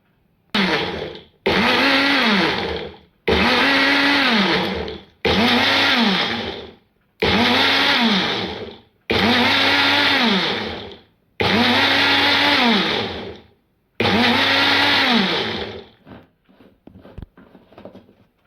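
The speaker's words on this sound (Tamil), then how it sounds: "ஒரு வாட்டி நம்ம எண்ணெய் சேர்த்துட்டு அரைக்கும் போதோ எட்டுலேருந்து பத்து வாட்டி பல்ஸ் பண்ணி எடுத்துக்கணும்" Mixer grinder blending eggs and oil into mayonnaise, run in eight loud pulses of about a second each with short gaps between, ending in quieter rattling; no talk.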